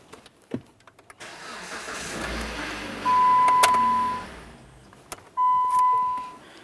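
A 2007-2017 Jeep Patriot, mid power steering pump replacement, clicks and cranks, then idles steadily with a chime ringing before the engine cuts off. A second burst of running and chiming follows, all close by.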